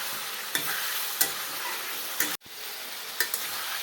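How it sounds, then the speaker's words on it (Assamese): Broiler chicken curry cooked with raw turmeric is stirred in an uncovered pot over a steady sizzling hiss, with a handful of spoon knocks against the pot and one brief sharp clunk partway through. "উদঙাই দি এতিয়া মানে অলপ লৰাই দিম"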